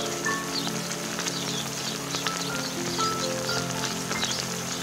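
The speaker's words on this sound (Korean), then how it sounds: "오늘 가을비가 내립니다." Autumn rain falling steadily, a dense, even hiss of drops close by with faint music underneath.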